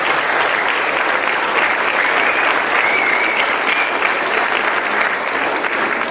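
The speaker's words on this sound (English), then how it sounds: "a round of applause for my people that helped us out" Sustained applause from an audience at a junior football presentation day, loud and steady for the whole six seconds with no break.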